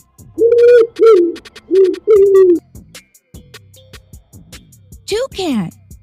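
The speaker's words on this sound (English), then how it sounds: "Pigeon." A pigeon coos up close: four full, throaty coos in a steady rhythm, followed by quieter scattered sounds and a brief voice near the end.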